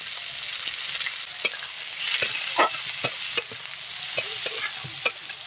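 Chopped onion sizzles in hot oil after a cumin tempering, with a steady frying hiss broken by sharp clinks and scrapes of a spatula stirring the pan, close and moderately loud with no talking.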